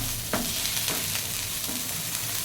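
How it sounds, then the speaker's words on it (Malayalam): Ginger-garlic paste fries in hot oil for a paneer biryani, a close, constant sizzle with a few brief stirring scrapes, and no voices. "ആ എണ്ണയ്ക്കകത്തിലേക്ക് നമുക്ക് ഇഞ്ചിയും വെളുത്തുള്ളി പേസ്റ്റുമാണ് ഇട്ടിരിക്കുന്നത്"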